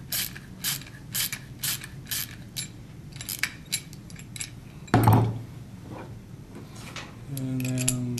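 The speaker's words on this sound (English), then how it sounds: "while you ratchet it down" Metallic ratcheting clicks from a ratchet tightening a bolt on a DIRECTV satellite dish roof mount, a run of close rhythmic clicks followed by a clank and a low hum.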